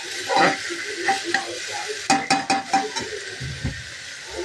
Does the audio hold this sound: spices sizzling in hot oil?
yes